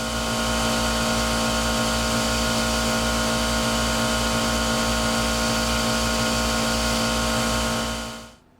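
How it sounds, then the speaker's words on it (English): A belt grinder with a large contact wheel grinds the interior curve of a throwing knife handle, a loud steady whine with a deep rhythmic rumble, running continuously before winding down at the end. "I'll switch to a large contact wheel and grind that interior curve."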